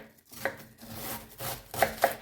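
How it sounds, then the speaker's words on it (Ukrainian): A knife finely chops cabbage with a few sharp, close thuds on a board, unevenly spaced, with soft slicing scrapes between strikes and no talking. "Капусту нарізаю ножем дрібненько."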